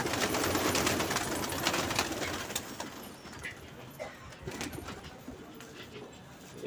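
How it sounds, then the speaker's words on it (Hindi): Pigeons bathe in a water tub, with busy splashing and wing flutter loudest at first, then thinning into scattered splashes alongside soft cooing close by. "ये कबूतरों का नहान शुरू हो गया"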